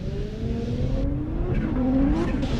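A Pro 2 drag race car's engine roars loudly, revving with rising pitch and a brief tire chirp, a hard launch over steady engine noise, during qualifying in Texas.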